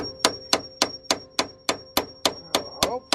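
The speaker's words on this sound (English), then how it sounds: "Don't hammer it too much because you might end up snapping it." Eleven sharp, evenly spaced hammer blows strike a car's coilover adjuster to loosen it without a C spanner, each a loud metallic crack ringing briefly, in a steady rhythm about three per second.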